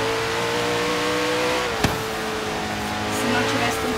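A car engine in a Forza Horizon video game holds a loud, steady tone, with a short sharp click midway and a slight rise in level toward the end.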